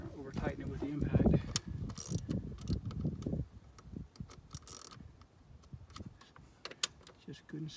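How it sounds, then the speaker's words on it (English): A hand ratchet tightening the crankcase vent filter on a 2017 Dodge Ram 6.7 Cummins, giving bursts of quick, sharp metallic clicks at close range, interspersed with clanks and handling noise. "Now I'm going to use my ratchet and tighten my hand."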